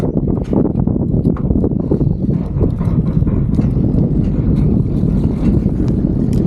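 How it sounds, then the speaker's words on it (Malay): Strong wind during rain at a kelong fishing platform in Kampung Baru buffets the microphone in a loud, continuous low rumble with gusting texture and no talking. "Hujan turun angin kuat."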